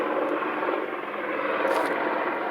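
A helicopter flies somewhere overhead, a steady, even whooshing drone that holds at moderate loudness for a few seconds with no talking.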